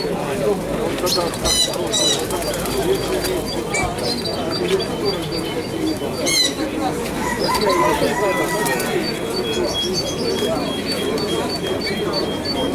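Pigeons coo at an outdoor pigeon fair in Dnipro, soft repeated cooing and fluttering amid a busy murmur of people talking nearby, with occasional sharper chirps.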